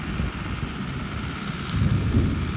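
Rain falls steadily around a New Holland TT75 tractor doing bush hogging, heard from a pickup truck, with a dense patter and low rumbling underneath that swells toward the end.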